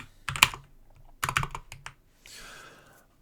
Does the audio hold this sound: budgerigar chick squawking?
no